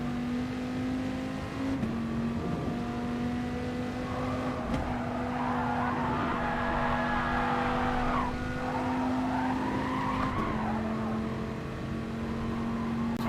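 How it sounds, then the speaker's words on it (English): In the GT Sport racing video game, a race car's engine drones steadily with gear changes while its rear tyres slide and squeal in drawn-out, wavering screeches through a series of corners. "Rear tyres definitely want to slide a lot more in this car than the TT."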